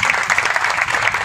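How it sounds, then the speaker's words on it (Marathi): An audience at a Brahman Mahasangh community gathering claps loudly and densely, a continuous burst of many hands close by. "जोरदार ब्राह्मण महासभेसाठी जोरदार टाळ्या आपल्या सर्व समाज बांधवांनी वाजवायचे आहे"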